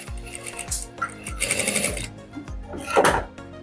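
Sewing machine stitching a full katori blouse, running in quick repeated bursts of close, loud needle clatter with short pauses between, while someone talks over it.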